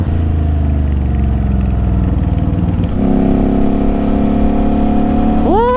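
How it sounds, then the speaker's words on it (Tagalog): Road traffic in Batangas heard from a moving motorcycle: loud, close engine drone with a steady rumble that shifts pitch midway, and a rising whine of a passing vehicle near the end. "Traffic is real."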